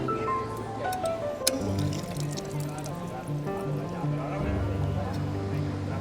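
Water from the Canaletes fountain in Barcelona splashes and pours steadily for the whole stretch, with a bright tap or clink near the start and tonal background sounds throughout.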